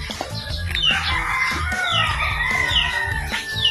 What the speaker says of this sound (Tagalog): May mga manok.